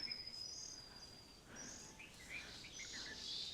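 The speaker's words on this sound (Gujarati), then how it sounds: "પોપટ ચકલા બહુ જ છે અહીંયા બધે." Parrots and sparrows call around a temple inside a forest, with scattered high chirps and tweets over a steady insect-like hiss, faint and distant throughout.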